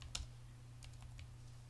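Keys tapped on a computer keyboard while drivers are updated for a CPU mining rig, a few scattered soft clicks over a steady low electrical hum.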